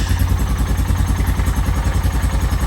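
A 1998 Honda 450 engine just after carburetor repair, running loud and close with a rapid, even, pulsing beat and a rough mechanical clatter.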